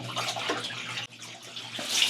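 Water running steadily as it is poured to fill a pool pump's housing, a continuous splashing rush with a brief dip midway before it swells louder again toward the end.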